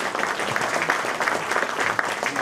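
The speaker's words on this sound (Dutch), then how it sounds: "Applaus voor de inleiders." An audience at a municipal election debate in Bladel applauds the speakers with steady, dense clapping that holds evenly from start to finish, with no voices above it.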